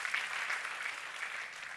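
Church congregation clapping together in steady, dense applause, close and even throughout with no voices rising above it.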